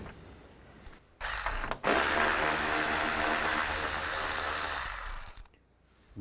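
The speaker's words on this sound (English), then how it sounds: "on both sides, you want to take these bolts out. Use a 10mm socket." Ratchet wrench with a 10mm socket clicks rapidly while backing out bolts on a 2011-2015 Chevy Cruze during A/C condenser removal, one short burst followed by a longer steady run of close, dense ratcheting.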